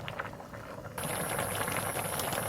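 Bamboo shoot and catfish curry simmering in a pot, a steady close bubbling and burbling that thickens partway through, with no voices.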